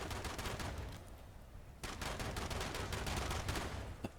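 Rapid gunfire from Fallout 76 crackles in dense automatic bursts, pausing briefly before another sustained stream of shots, loud and close with no voice.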